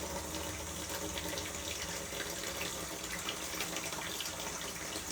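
Water splashes into a hot pan while a chicken pot pie is being cooked, making a steady hissing, rushing wash of sound that carries evenly for several seconds without speech.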